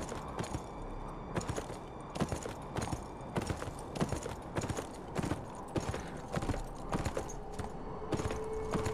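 Horse hooves in Beyond: Two Souls, a steady clip-clop of galloping hooves in an even rhythm, close and moderately loud, with no talking.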